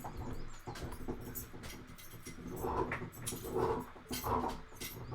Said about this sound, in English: why so noisy?